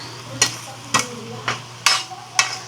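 Carrots cooking in oil for chicken caldereta, with five sharp scraping stirs at an even pace over a faint, steady sizzle and hum.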